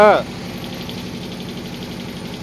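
A boat's motor runs near Colachel in Kanyakumari, a steady, close mid-pitched engine drone with a fine rhythmic pulse, briefly overlapped by a voice at the very start and then continuing on its own.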